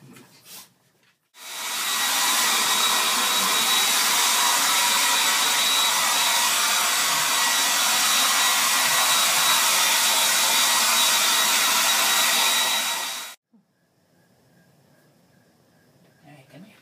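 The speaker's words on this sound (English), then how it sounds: "For the little guys, we just use a handheld blow dryer." A handheld blow dryer roars steadily for about twelve seconds while drying a small dog, close and loud, with brief quiet moments before and after.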